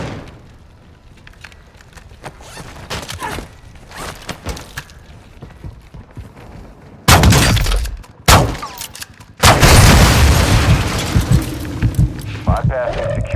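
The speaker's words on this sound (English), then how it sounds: "You are taking effective fire." Gunfire in the video game Call of Duty: Modern Warfare II, scattered shots early on, then heavy loud bursts and blasts dominating the second half, with radio-style voices talking throughout.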